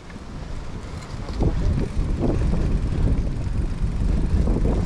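Cold wind gusts buffet the microphone on a muddy hiking trail at Aratanha, a rough, rumbling roar that swells louder partway through and keeps blowing steadily.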